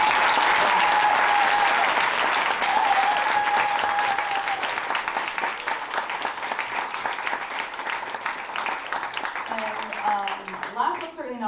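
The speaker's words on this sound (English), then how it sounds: "let's give a really big round of applause for all of our" Sustained audience applause at a demo day at Blackstone, dense clapping from a large crowd that holds steady for several seconds before thinning, with voices and cheers mixed in near the end.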